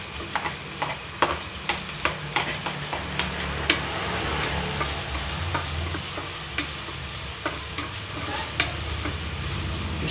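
Browned garlic and onions frying in a pan for a chicken macaroni soup, a continuous close sizzle with regular clicks of a utensil scraping and stirring throughout, no voices.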